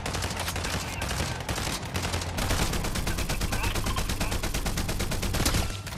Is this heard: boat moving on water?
no